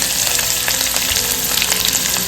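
Chopped onions sizzling loudly in hot oil in a pan for a yogurt curry, a dense continuous fry close up with faint crackles and no voices.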